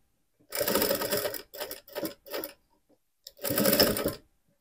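A sewing machine stitches a bear-shaped backpack in several bursts: one long run, three short quick runs, a pause, then another long run, loud and close with silence between.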